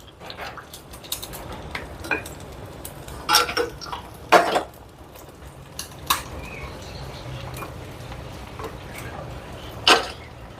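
Fried dried sardines are lifted out of a pan, with a spoon scraping and clinking against the metal in scattered sharp knocks over a faint frying sizzle, no talking.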